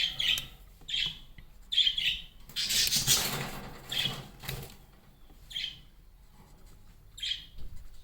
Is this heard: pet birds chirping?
yes